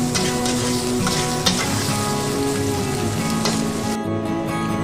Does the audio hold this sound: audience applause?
no